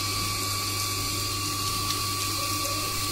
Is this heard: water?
yes